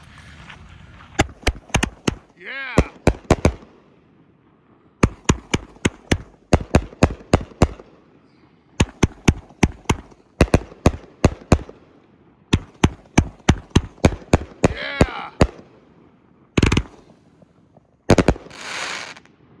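An Outlaw Pyro Home Skillet 25-shot firework cake fires a rapid series of sharp, loud bangs in irregular clusters. Brief whistling crackles and fizzes sound between some of the clusters.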